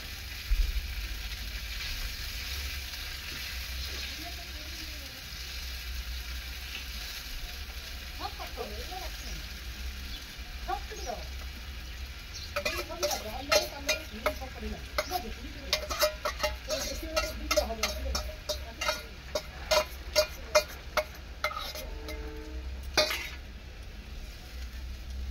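Fish pieces slipped into a bubbling curry on a home stove, a steady low simmer broken by a burst of sharp clinks and scraping stirs toward the end, with a few voice fragments early on.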